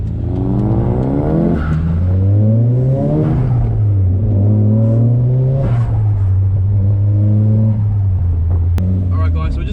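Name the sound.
Nissan S15 Silvia cars accelerating onto highway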